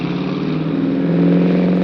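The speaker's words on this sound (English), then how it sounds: "Verdain pulled on the throttle and the engine burst into life." A boat cruiser's engine runs steadily with a loud, low droning hum that swells slightly as it picks up speed across a bay, with no voices.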